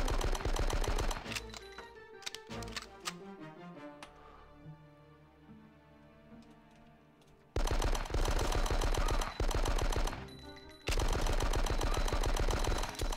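Bursts of rapid automatic gunfire and shots in a Die Hard: Nakatomi Plaza video game firefight, loud and dense at first, easing into a quieter stretch, then roaring back in long sustained volleys with no talking.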